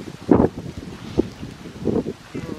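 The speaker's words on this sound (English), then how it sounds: "it's getting windy." Wind gusting outdoors at a historic cemetery in Pasco County, with a few soft swells of rustling noise and buffeting against the microphone, moderately loud and alone, without talk.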